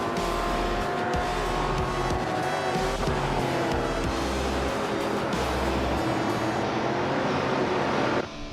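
Race cars roar continuously in a racing video game, loud layered engine drones with shifting pitch, tire squeal and cars passing close by, running steadily to the end with no talk.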